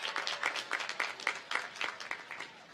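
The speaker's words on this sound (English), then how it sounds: "Yes, you can give her a round of applause." A commencement ceremony audience applauds Justina Miles in a brief, moderate burst of steady, dense clapping that blends into a continuous patter without pauses.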